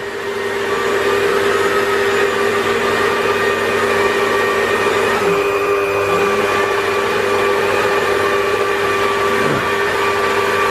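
An electric mixer works flour into brioche dough, running as a loud, continuous motor drone with a steady hum and brief pitch dips as the load shifts. No talk is heard.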